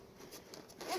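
A zipper on a bug-out bag is pulled open, a close, quiet run of rapid zipping rasps lasting about a second and growing slightly louder toward the end.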